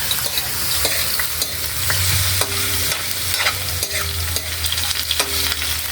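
Egg being stirred into sautéed bitter gourd in a hot pan, a steady close sizzle with a spatula scraping and tapping the pan at irregular intervals, with no talking.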